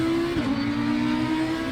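Audi R8 EVO GT3 race cars in Assetto Corsa Competizione at a race start at Kyalami, a loud steady engine drone with a brief shift in pitch as the car accelerates.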